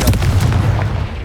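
A Confringo fire spell blasts out in the Hogwarts Legacy video game, a loud, booming burst of explosive impact with heavy low rumble that fills the moment without any voice.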